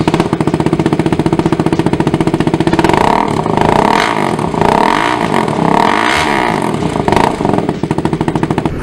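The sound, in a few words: motorcycle engine with exhaust revving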